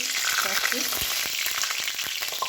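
Battered mushrooms for chili mushroom frying in refined oil, a steady close crackling sizzle with small pops and faint scraping, no voices.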